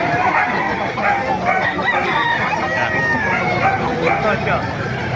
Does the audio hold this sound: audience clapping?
no